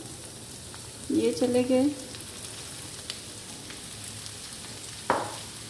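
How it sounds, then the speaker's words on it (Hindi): Grated potatoes go into a hot pan and fry with a soft, steady sizzle and occasional crackles, close and moderately quiet, while someone briefly speaks over it. "अब मैं इसके अंदर ऐड करूँगी ये जो कद्दूकश किए थे आलू"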